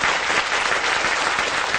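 A studio audience at a Sun Life television show claps in steady, dense applause that fills the space evenly from start to finish.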